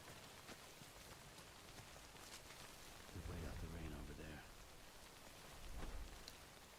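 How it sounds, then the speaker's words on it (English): Rain hisses steadily in the video game Death Stranding, running on an iPhone. A soft rumble swells midway under faint background sounds. "Let's wait out the rain."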